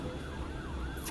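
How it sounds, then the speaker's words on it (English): A fire truck or ambulance siren wails in the distance, its rising and falling tone sweeping over background traffic rumble for a brief moment. "I heard a alarm. Yeah, it's a fire truck or ambulance or something."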